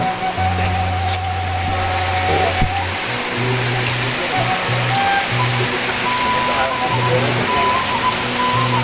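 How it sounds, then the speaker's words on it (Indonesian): Heavy rain pours steadily with a dense hiss in Kampung Pasirsalam, Indonesia, while a low hum pulses on and off underneath and a few sharp knocks sound nearby. "Di luar suasananya hujan, saya pertunjukkan ke teman-teman di luar ini hujan gede"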